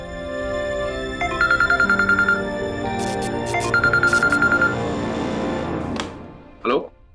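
A telephone rings in two bursts of rapid electronic trilling pulses while a voice speaks softly underneath, followed by a short sharp sound near the end.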